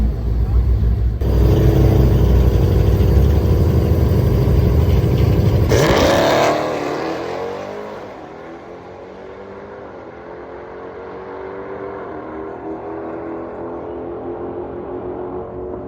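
A Dodge Demon 170 launches in a drag racing final, its engine roaring loud and steady for about six seconds before cutting off sharply, then a fainter engine drone continues under distant crowd and track noise.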